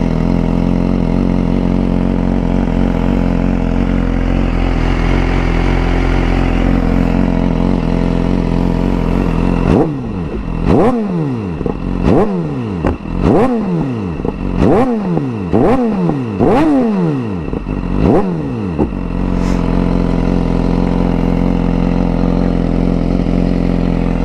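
A modified exhaust on a 2011 BMW S1000RR idles close up, then barks through a series of about eight sharp revs that rise and fall quickly before settling back to a rumbling idle.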